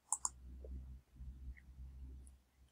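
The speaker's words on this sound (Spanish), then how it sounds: "Le voy a dar clic a guardar." Mouse click on a save button, two quick sharp clicks close together at the start, then quiet low room hum.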